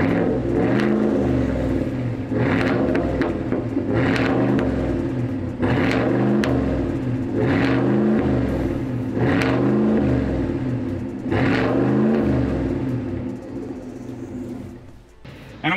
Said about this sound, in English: driving the new Chevy Silverado ZR2